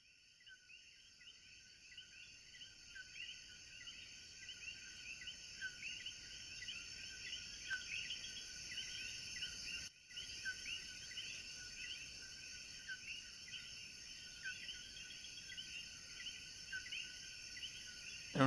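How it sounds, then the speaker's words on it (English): Night rainforest ambience in El Yunque National Forest, Puerto Rico, with a dense, steady chorus of high-pitched chirps from insects and coqui frogs that fills the whole stretch, with no talk over it. "Relaxing sounds of the El Yunque National Forest, Puerto Rico."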